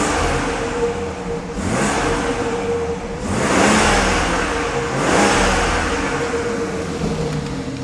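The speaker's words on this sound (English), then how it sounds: "Let's pump the throttle." A BMW 540i engine at operating temperature revs in several swelling bursts as the throttle is pumped, with a steady idle between the rises, close and loud.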